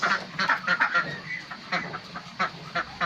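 A flock of ducks quacks continuously as they are released from their pen on a farm, overlapping calls close by in a steady, chattering rhythm.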